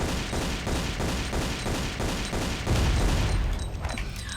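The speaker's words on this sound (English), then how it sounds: "Still gonna use pistols where I can though" Rapid, steady volleys of pistol gunfire in a Tomb Raider custom level game, loud and continuous with a heavier burst near the end, no talking.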